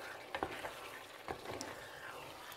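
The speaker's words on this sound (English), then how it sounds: "After a few minutes, I'm going to stir." Spicy lamb liver frying in a pot over medium heat, a steady close sizzle with a few soft scrapes and knocks of a spoon stirring through it.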